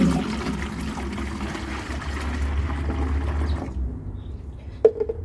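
Rainwater pours from a 5-liter watering can into a garden container, a steady close splashing flow for several seconds that stops abruptly and is followed by a single faint knock.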